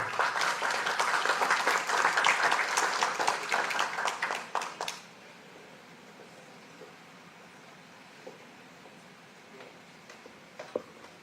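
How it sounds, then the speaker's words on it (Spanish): At a tribute ceremony in a congress hall, an audience gives a loud, sustained round of applause that stops abruptly after about five seconds, leaving quiet room tone with a few faint knocks. "al cual recibimos con un fuerte aplauso"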